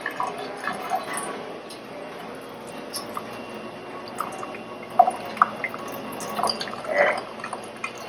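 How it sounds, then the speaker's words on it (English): Scattered drips and small splashes fall as a rinsed face mask is wrung out during tie-dyeing, quiet and irregular over a low background hush. "is rinsing the face mask and wringing out the water"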